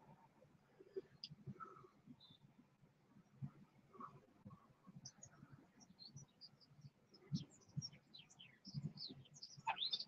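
Birds chirp and tweet outdoors in scattered high, short calls that grow busier toward the end, set over a low rumbling background.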